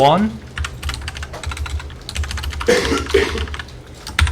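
In a classroom, a student's two quick coughs break through close, continuous keyboard typing, with faint voices in the background.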